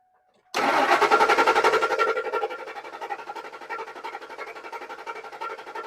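A 2003 Ford F150 with the 4.6L V8 cranks steadily, its starter producing a rapid rhythmic churn close by that begins abruptly and keeps pulsing evenly for several seconds without catching, the engine misfiring on one cylinder.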